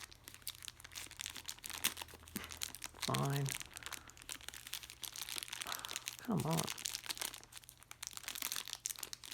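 Thin plastic bag crinkles and rustles in rapid bursts close up as an action figure package is opened, with a person briefly speaking twice in between.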